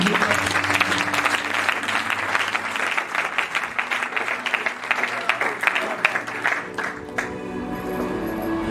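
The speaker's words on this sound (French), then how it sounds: "Acclamons pour le Seigneur." A church congregation at a prophetic worship service applauds for the Lord in a loud, sustained burst of many hands clapping that fills the hall for most of the moment before thinning out near the end.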